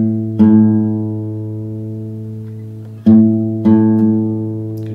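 A guitar string is plucked and left to ring while its tuning peg is turned, sounding three times in a quiet room, each note sustaining and slowly fading, close and alone.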